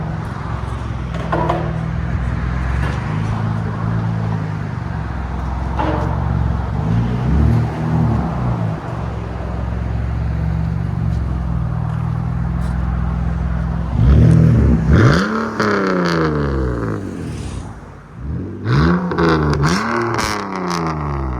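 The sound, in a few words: BMW Z3 3.0L I6 engine revving, straight pipe exhaust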